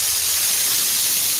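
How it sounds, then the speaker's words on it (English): Spray and Forget roof cleaner sprayed onto a roof, a loud, continuous, even hiss of spray running unbroken throughout. "This is you spraying your roof."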